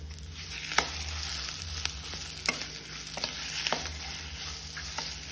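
A ground paste of coconut, raw mango and dried red chillies sizzles steadily in hot tempering oil, with repeated sharp scrapes of a spoon stirring the pan, close and moderately loud.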